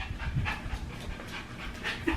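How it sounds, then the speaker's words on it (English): A dog pants rapidly and continuously while jumping up at someone's knees indoors, the breaths close and moderately loud with no talking. "Yes, I have a Pippin jumping on, jumping at my knees"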